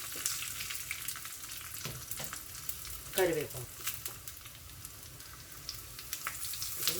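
Whole dried red chillies crackle and fry in hot oil for a dal tempering, a steady close sizzle with a few spoon scrapes and faint background voice.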